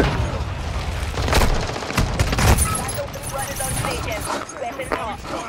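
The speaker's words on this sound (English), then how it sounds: "Who's using a shotgun?" Shotgun fire in a video game comes as a quick run of loud, sharp blasts layered with other gunfire, dense and close over several seconds, while players talk over it.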